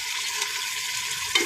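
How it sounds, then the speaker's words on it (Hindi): Petha halwa fries in a pan while being stirred, giving a steady, loud sizzle throughout with a brief scrape near the end and no voices. "तो 5 मिनट हम इसको इसी तरह ही भून लेंगे।"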